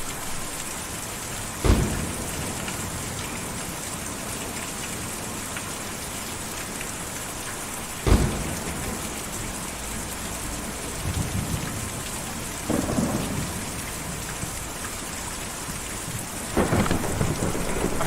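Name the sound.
rain and thunderstorm in the video game Kentucky Route 0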